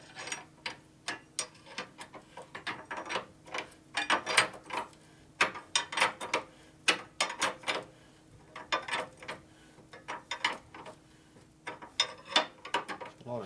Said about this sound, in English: Come in with your wrench.